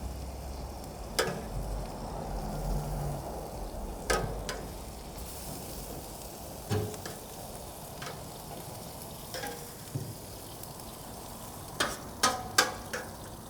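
Steak and peppers sizzling on a smoker griddle, a soft continuous fry hiss broken by sharp scraping and tapping clicks of a utensil at intervals.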